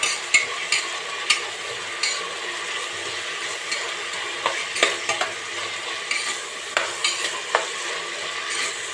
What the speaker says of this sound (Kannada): ಆಲೂಗಡ್ಡೆ ಹಾಕೋತಾ ಇದ್ದೀನಿ ಈಗ ಸ್ವಲ್ಪ ಎಣ್ಣೆಲೆ ಫ್ರೈ ಮಾಡ್ತಾಯಿದ್ದೆ